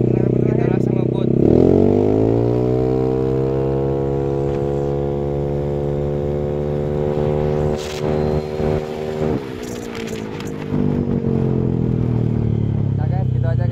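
A Yamaha NMAX scooter, recently repaired for sputtering and stalling, accelerates hard on a test ride, its engine note climbing in rising harmonics and holding at speed, with someone speaking over it.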